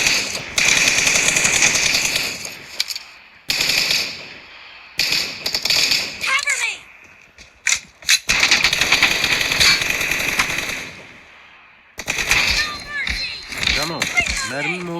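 Gunfire in the mobile battle-royale game PUBG Mobile, loud rapid automatic bursts in several volleys separated by short pauses, with game effects between.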